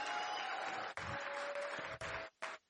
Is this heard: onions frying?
no